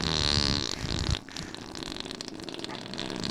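Fart sounds, a long buzzing, wavering raspy blast that breaks off and turns into a rougher sputtering rattle.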